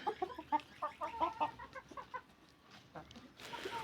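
Chickens and chicks cluck and peep in a large poultry house, with small and laying hens and roosters nearby; a run of close, rhythmic clucks comes first, then scattered calls and a rustling burst at the end.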